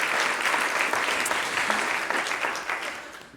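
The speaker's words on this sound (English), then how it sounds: "Let's have a round of applause for this." Audience applause right after speakers are introduced at a lecture on stereotyping and implicit bias, a steady dense wash of many hands clapping close and loud for the whole stretch, no voices on top.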